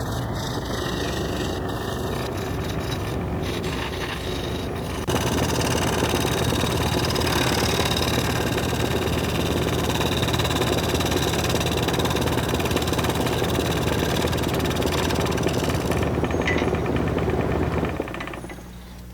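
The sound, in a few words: wood lathe turning, cutting wood and resin blank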